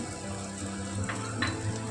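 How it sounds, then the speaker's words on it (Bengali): Chopped ginger pieces fry in hot oil in a pan for Bengali chana dal, giving a steady, close sizzle with a couple of soft stirring scrapes partway through. "এটাকে আদাটাকে একটু ভেজে ভাজা ভাজা করে নিচ্ছি"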